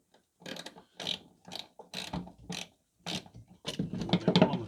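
A ratchet clicks in short bursts while undoing a bolt on a Ford Focus or C-Max rear shock absorber, with about eight quick, close strokes separated by brief pauses.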